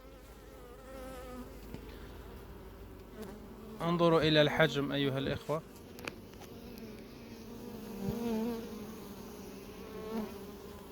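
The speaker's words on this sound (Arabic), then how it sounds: "نحل جميل جدا" Honeybees buzz around a hive with bright white new wax, a steady close hum that swells loudly for a couple of seconds as bees pass near, while someone talks over it.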